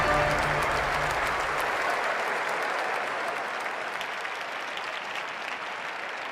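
Stadium crowd in the PES 2010 football game applauds steadily as teams walk out for a Champions League match, a dense, sustained wash of clapping and cheering that fades slightly toward the end.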